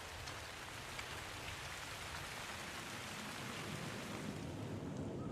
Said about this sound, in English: Hail. Though it is made of ice, it is very different from snow.